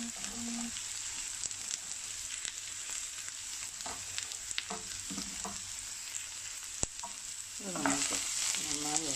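Finely chopped carrots for carrot thoran fry in a pan with a bright, steady sizzle while a spoon scrapes and clinks at irregular intervals, close and fairly loud.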